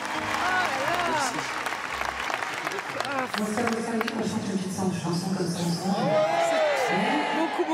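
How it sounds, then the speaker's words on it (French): A concert audience applauds a female singer after her song, steady dense clapping with some cheers and whoops across the whole stretch, while a voice speaks over it. "on peut applaudir cette chanteuse magnifique et cette chanson magnifique"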